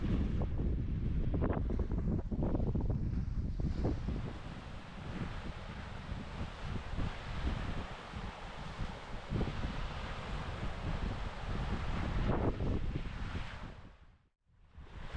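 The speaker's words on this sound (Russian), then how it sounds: "Ближе к ночи тучи сгустились, ветер усилился, а когда стемнело, и вовсе затянул дождь" Strong, gusty wind on Lake Baikal at night roars and buffets the microphone, swelling and easing in waves before briefly dropping away near the end.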